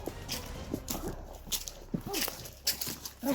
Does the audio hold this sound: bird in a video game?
no